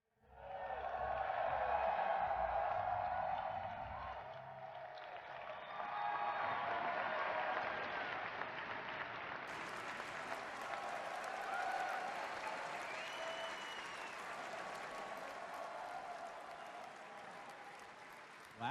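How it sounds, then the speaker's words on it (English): An audience at Star Wars Celebration applauds and cheers in a large hall, a sustained roar of clapping that swells early, dips, then continues steadily and slowly fades, heard from a distance. "Hearing their cheer"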